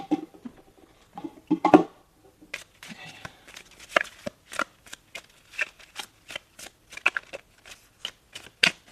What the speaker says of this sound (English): so that means I have to draw a card.